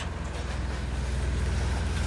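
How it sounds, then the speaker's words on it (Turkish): A tractor in a rural village rumbles loudly and steadily from close behind, its deep engine drone mixed with broadband road and wind noise throughout. "Arkadan da traktör geliyor."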